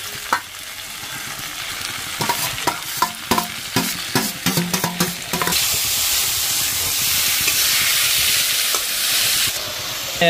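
Potatoes and chopped banana flower frying in a pan, stirred in a run of quick scraping strokes over a steady sizzle that swells into a loud, continuous hiss in the second half.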